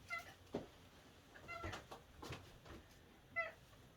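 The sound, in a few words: cat meowing for food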